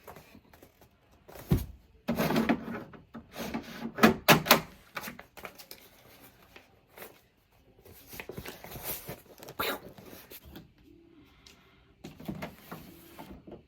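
Packing tape being pulled and pressed onto a cardboard shipping box holding a tufted rug, several loud ripping and scraping bursts with pauses and thumps between, close by and otherwise quiet.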